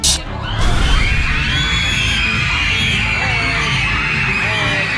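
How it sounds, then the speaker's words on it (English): A crowd screams and shrieks continuously at high pitch after a brief burst at the start, loud and sustained throughout. "they were screaming so loud"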